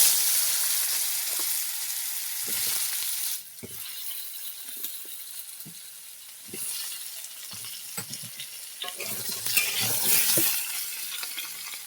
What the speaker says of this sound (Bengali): ওই তেলে আমি দিয়ে দেবো আলুটাকে ভেজে নেব